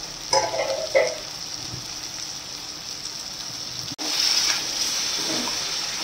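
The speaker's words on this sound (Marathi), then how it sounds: "मिक्सरमध्ये पाणी होतं ते पाणी टाकलं आहे याच्यामध्ये." Water poured into a pan of sizzling Saoji-style mutton trotter curry, with a few short splashing bursts and then a steady, close frying hiss that briefly cuts out and resumes louder.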